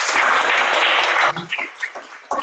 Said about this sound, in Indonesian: Berikan tepuk tangan untuk kita.